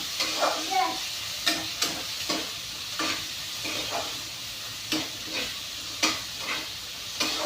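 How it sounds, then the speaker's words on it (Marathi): Chopped onion and moth beans fry in a pan while a spoon stirs them, making a continuous hissing sizzle broken by regular scraping strokes roughly once a second, close and fairly loud. "कांदा बी छान भाजला आहे"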